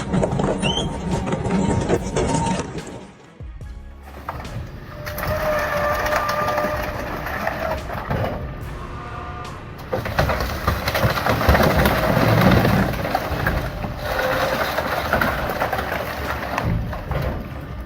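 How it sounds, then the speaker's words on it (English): A hydraulic scrap crushing machine crunches metal with loud, dense grinding and cracking, pausing briefly after a few seconds before another long press of heavy crunching. "Every crunch echoes the raw power of hydraulics meeting resistance"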